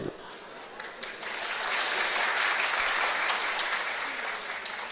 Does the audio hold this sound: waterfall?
no